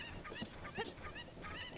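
Chicken clucking and squawking in the video game Zelda: Ocarina of Time, a string of short, excited honking calls repeating close and clear over a continuous background of game music.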